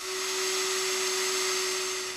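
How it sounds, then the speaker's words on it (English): A power drill with a 5/32 inch bit bores mounting holes for a boat transducer, giving a loud, steady whine with a single sustained pitch that holds for the whole stretch. "Then, drill the holes to a depth of approximately 1 inch."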